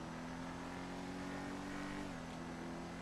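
In GTA 5, an Ubermacht Revolter car's engine drones loudly and steadily through a throaty exhaust at high revs, its pitch dipping slightly partway through, with no talk over it.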